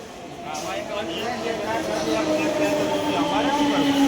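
A metro train pulls into a station on a journey from Agra to Delhi, a rising rumble with tonal whine and rail hum growing steadily louder and closer, under people talking.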